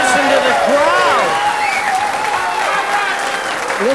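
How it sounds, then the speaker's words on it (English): Crowd at a U.S. Open 9-ball pool championship bursting into loud, sustained applause and cheering after a shot, with excited voices shouting over the clapping. "And listen to the crowd."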